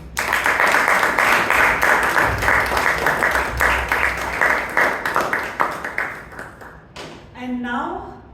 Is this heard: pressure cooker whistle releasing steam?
no